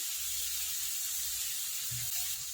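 Cabbage hitting a hot pan sizzles with a soft, steady hiss, faint and continuous, with low crackles underneath and no talking.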